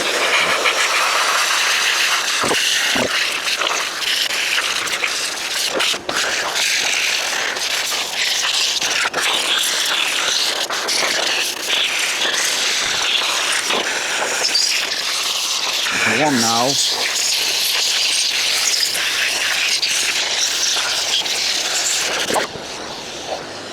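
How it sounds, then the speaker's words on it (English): A loud, steady pet blower fan on its heat setting at the slowest speed roars with a broad hiss throughout, with a few thumps and a brief whine partway through. "I'm going to put the fan on heat, of course, and this is the slowest setting that I'm using now."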